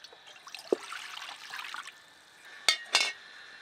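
Water poured into a cooking pot in a home kitchen, a soft trickling splash at first, then two short louder pours or clanks near the end, close and fairly quiet with no speech.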